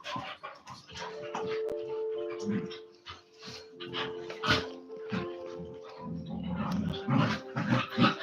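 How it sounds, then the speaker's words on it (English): Dogs scuffling and playing nearby, with panting, whimpers and short yelps in irregular bursts. "The dogs behind me sound as though they're fighting."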